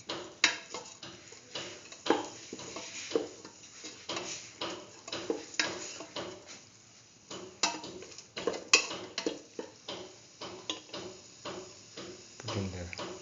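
A utensil stirring scrambled egg and ash gourd stew in a pan, irregular clinks and scrapes of metal against the pan in quick uneven strokes, close by, with a voice now and then.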